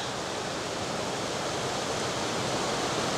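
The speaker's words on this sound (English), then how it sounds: "You're about to see a much more dramatic waterfall than that." Smalls Falls, a three-tier waterfall in Rangeley, Maine, pours in a steady, full broadband roar that holds constant and loud throughout, with no voices over it.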